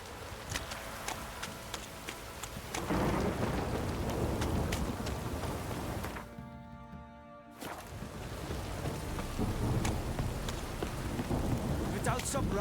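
Rain falls steadily in The Witcher video game with a rumbling thunderstorm underneath, the hiss briefly cutting out before returning just as heavy; a voice speaks faintly at times.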